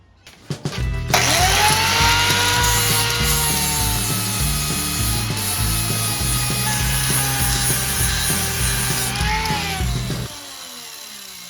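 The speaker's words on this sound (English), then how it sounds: "The easiest thing to do first is actually grind that edge down there" A power grinder bites into the metal edge of a Triumph Bonneville Bobber exhaust, giving a loud, sustained abrasive whine for about nine seconds before spinning down and stopping.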